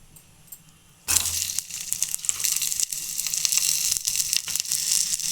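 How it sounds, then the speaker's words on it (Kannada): Chopped onion dropped into a tablespoon of hot oil in a pan, bursting into a loud, steady sizzle after a second of quiet and crackling on without talk. "ಬಾಣಲೆ ಇಟ್ಕೊಂಡು ಒಂದು ಟೇಬಲ್ ಸ್ಪೂನ್ ಅಷ್ಟು ಎಣ್ಣೆ ಹಾಕ್ಕೊಂಡಿದ್ದೀನಿ ಅದಕ್ಕೆ ಇವಾಗ ಈರುಳ್ಳಿ"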